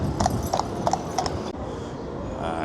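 Hooves of a horse pulling an old-style carriage clip-clop on a Blackpool street on a busy fireworks night: about eight crisp, evenly paced strikes, then a wash of street noise.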